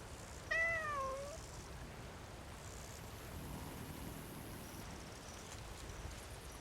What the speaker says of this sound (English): I don't think I've pet you before, Snowbelly, but perhaps I have.